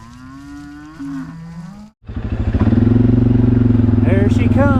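Cattle on a farm being moved along give loud, close, drawn-out moos, with a steady engine rumbling underneath, likely a motorcycle or vehicle used for herding.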